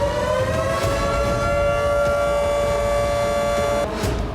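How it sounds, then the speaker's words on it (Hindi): A civil defense air raid siren wails across Ukraine, a steady loud sustained tone with rich harmonics holding for about four seconds before cutting off, over a continuous low rumble of background noise. "यूक्रेन में एयर अलर्ट के सायरन गूंजने लगे।"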